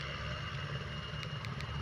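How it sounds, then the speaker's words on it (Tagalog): A Cebu Pacific airplane taking off, a steady broad roar of jet engines that holds even throughout, heard from a distance with a few faint clicks over the top. "Isa na namang panibagong paglipad ng eroplano ang ating mapapanood."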